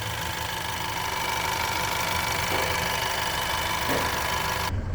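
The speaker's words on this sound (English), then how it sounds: "Okay, shot it with the motor running." A 2023 Ford Edge engine idles under an open hood with a steady, even hum and faint rhythmic ticking, close and continuous, cutting off abruptly at the end.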